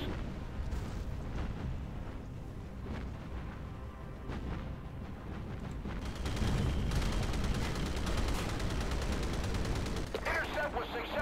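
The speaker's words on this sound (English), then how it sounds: "Enemy fire's being directed at us." Naval battle gunfire in Battlestations Pacific, a dense stream of distant booms and rapid shots that thickens into a heavier continuous barrage midway, with a voice speaking over it.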